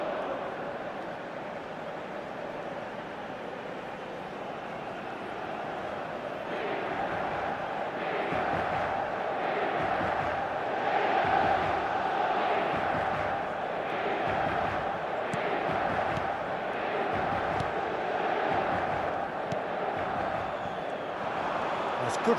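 A virtual stadium crowd in an eFootball match swells into applause and a broad roar that rises midway and holds at a steady level, heard under a play-by-play commentator talking throughout.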